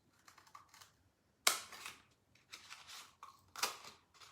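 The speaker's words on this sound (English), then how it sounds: "you can just cut right in to the cup without having to like actually cut a separation" Scissors snipping into a plastic cup for a recycled sculpture, a few sharp crisp cuts close by with short pauses between them, no talking.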